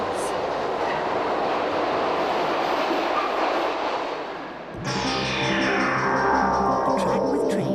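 A driverless London Mail Rail postal train rumbling through a narrow underground tunnel, a loud continuous roar with rhythmic clatter that briefly dips and then surges closer.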